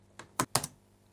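A password entered on a computer keyboard at a Chrome OS Flex login screen: four quick, crisp key taps in an uneven burst, close and clear against near silence.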